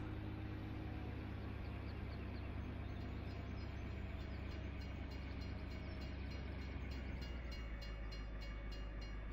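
Train passing in the farming video game Farming Simulator 17, a dense continuous rumble and rolling noise that stays steady and fairly quiet for several seconds, with no talking.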